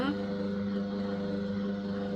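An Omega Sana EUJ-707 juicer motor runs after pressing banana: a steady, close electric hum with a firm buzzing tone that holds evenly throughout.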